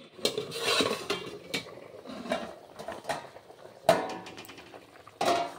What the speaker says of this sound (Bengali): হয়ে গেল, এবার আমি ঢাকাটা উঠিয়ে নিচ্ছি।